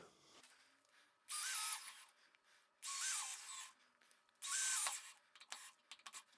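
A cordless drill whirs in three short bursts, each a few seconds long with quiet pauses between, driving a screw into a door hinge close by.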